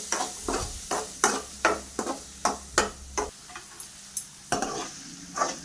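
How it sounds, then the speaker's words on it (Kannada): Paneer pieces frying in a pan with a spatula, a rhythmic series of about a dozen scraping strokes over a low sizzle, close and loud with no talking. "ನಿಮ್ಗೆ ಯಾವ ಸೈಜಲ್ಲಿ ಬೇಕೋ ಆ ಸೈಜಲ್ಲಿ ಕಟ್ ಮಾಡಿಕೊಂಡು ಚೆನ್ನಾಗಿ ಫ್ರೈ ಮಾಡಿ"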